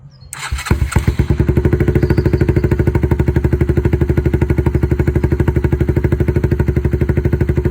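A 125cc Suzuki Marauder motorcycle engine with a custom exhaust starts up and settles into a loud, steady, rapid putter. The exhaust has a deep, throaty pulse that keeps going without interruption.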